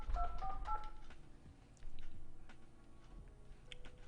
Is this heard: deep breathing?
no